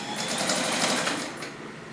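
A vintage domestic straight-stitch rotary sewing machine runs in reverse, giving a steady, close, fairly quiet mechanical whir with a fine rapid stitching patter for about two seconds, no talking.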